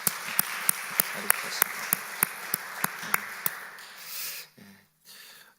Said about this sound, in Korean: 우리 한번 격려의 박수 한번 하겠습니다